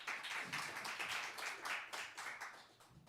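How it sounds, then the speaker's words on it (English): An audience claps for a poet at a poetry night, steady scattered hand claps filling the room at a fairly faint level, with no voices over them. "Let's give him a warm round of applause."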